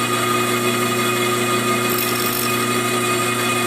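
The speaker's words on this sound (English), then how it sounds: "that's going to leave me a way to put the saw blade right in there" A power saw runs steadily while cutting through a piece of a tombstone, a constant whining, buzzing drone with no breaks, close and fairly loud throughout.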